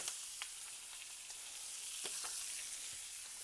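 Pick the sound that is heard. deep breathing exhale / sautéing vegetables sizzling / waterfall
sautéing vegetables sizzling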